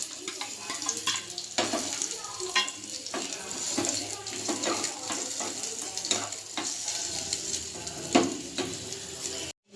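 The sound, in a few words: onions being tempered in hot oil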